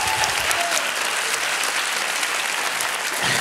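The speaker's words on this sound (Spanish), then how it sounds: "muchas gracias por este aplauso de bienvenida que me han brindado" A studio audience greets a guest with a warm welcome, sustained clapping that fills the room at an even, strong level throughout, with no talking on top.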